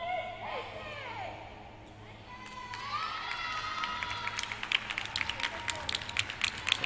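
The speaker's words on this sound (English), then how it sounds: "Some cheers and claps happening just off court to the left of our camera." Cheers and claps from a crowd just off court at a girls' national volleyball match, with shouts and rising broadband bursts of clapping growing louder toward the end, over a busy indoor hall and voices.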